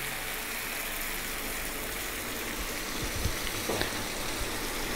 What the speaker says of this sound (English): we're going to add a little bit of water. I've got 250 ml of water there.